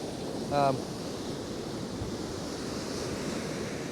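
Waves break in a continuous broad wash on a Northumberland beach, steady and moderately loud with wind, and a brief tonal chirp near the start.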